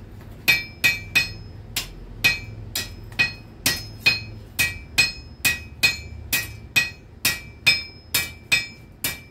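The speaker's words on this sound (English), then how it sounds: "whenever I hit the anvil, the hammer bounces. When I hit the metal, it doesn't" A small hammer strikes metal on an anvil at a blacksmith demonstration in colonial St Augustine, about twenty sharp, ringing blows in a steady rhythm, loud and close with bright metallic ring after each hit.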